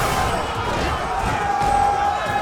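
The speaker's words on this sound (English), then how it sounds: "Oh, the Du chants are coming in." A Street Fighter V esports crowd at the Texas Showdown 2018 top 8 chants in unison, a dense, steady roar of many voices filling the hall, loud and continuous throughout the short stretch.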